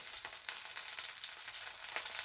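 Beef steak searing in a hot pan gives a close, steady crackling sizzle with rapid spitting pops throughout, no talking over it.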